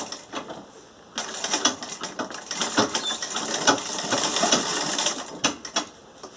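A sewing machine stitching the fabric edge of a door draft stopper, its needle chattering in a steady fast mechanical rattle that starts after a second of quieter handling and runs on close and continuous, with no voice.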